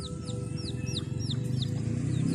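Free-range village chickens in Khun Han, Sisaket, Thailand cluck close by with soft repeated calls, while small birds chirp higher up over a low background hum.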